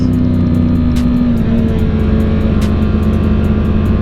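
A new motorcycle with a quiet stock exhaust revs close by, a steady loud engine drone whose pitch shifts slightly midway, with faint regular ticking above it.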